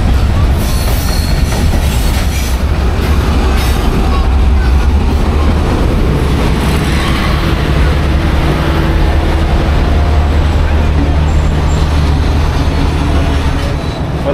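Shalimar Express passenger train running on rails in Pakistan, a loud steady rumble of wagons with rhythmic wheel clatter and occasional squeal, heard close from on board throughout.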